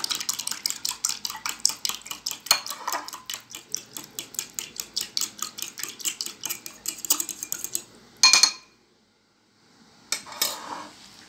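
A metal spoon scrapes and clinks rhythmically against a pot while stirring a mixture with ghee, quick repeated strokes close up, pausing briefly before a few final scrapes.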